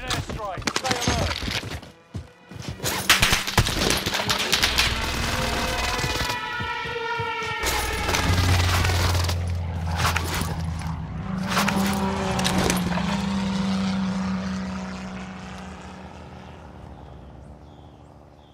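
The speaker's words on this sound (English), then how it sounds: "Enemy precision airstrike. Stay alert." A precision airstrike in the Warzone video game: aircraft roar sweeps overhead amid sharp gunfire and clanking impacts, then a sustained engine drone slowly fades out.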